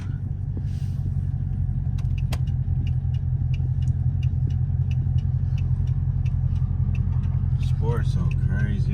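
Hemi car fitted with a Windbooster throttle controller, engine running in race mode with a steady deep rumbling idle close by and loud, while someone talks over it.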